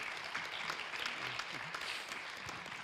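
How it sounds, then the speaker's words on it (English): University event audience applauding speakers at a consumer rights day, steady continuous clapping filling the hall, moderately faint and even, with a few voices murmuring underneath. "Very big applause to our speakers."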